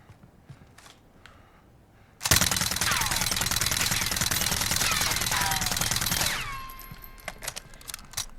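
A Mini UZI submachine gun fires a sustained full-auto burst in Call of Duty Modern Warfare, loud and rapid for about four seconds, with quiet clicks and handling noises before and after.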